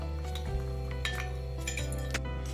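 A spoon clinks repeatedly against a bowl while sugar is stirred into milk and oil, several bright, separate taps at an irregular rhythm over a steady low hum, close and clear.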